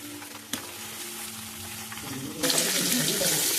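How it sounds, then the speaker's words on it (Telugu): Pumpkin, beetroot, carrot and radish cooking in oil for sambar, a moderate sizzle with a brief knock early on, then a louder burst of frying hiss in the final second as more goes into the hot pan. "ఇక ఇవి బాగా ఆయిల్లో మగ్గితే టేస్ట్ బాగా వస్తుంది అనమాట సాంబార్"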